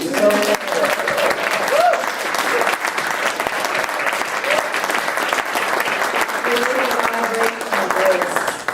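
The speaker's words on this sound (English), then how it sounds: "We should probably give an even bigger round of applause to our wonderful musicians, Adie and James." Audience applauding musicians at a Standing Rock remembrance gathering, sustained dense clapping that stays loud throughout, with scattered voices and cheers mixed in.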